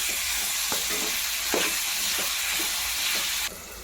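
Chopped tomato pieces are stirred into beans cooking in a pan, a steady sizzle and hiss with several soft scraping strokes of a spoon spaced about a second apart, close and continuous, with no voices.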